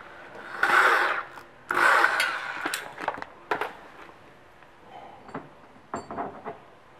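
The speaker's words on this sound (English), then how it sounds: "So I will try to drill out," A power drill grinds through the metal exhaust support of a BMW R27 motorcycle in a few loud bursts, then lighter scraping and tapping as work continues.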